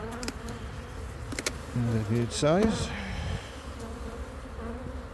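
Honeybees buzz steadily close by around an apiary hive during inspection in a low droning hum while a person speaks briefly over them.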